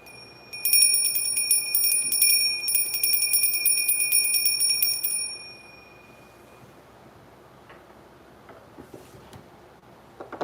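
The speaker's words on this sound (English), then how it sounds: "Gonna ring the bell." A bell is rung on Independence Day, bright ringing tones sustaining for several seconds and then cutting off, followed by quieter background noise with a few faint knocks near the end.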